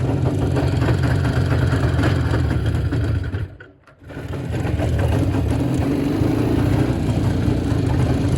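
An IZh motorcycle engine runs steadily while riding at night, a loud, close, constant drone that dips briefly midway before returning at full strength, with no speech.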